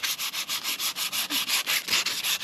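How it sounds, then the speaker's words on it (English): Fine sandpaper rubbed back and forth over a steel roller during a quick clean, giving a steady run of rhythmic, close scratchy strokes of about five per second, with no talk. "This roller here, real fine sandpaper,"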